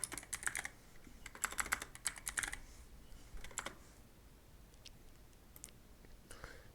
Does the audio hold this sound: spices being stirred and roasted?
no